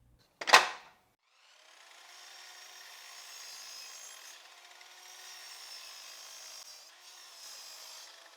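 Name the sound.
trimming the sides of a live edge wood slab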